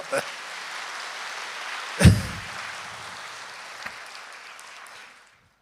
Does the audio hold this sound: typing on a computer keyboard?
no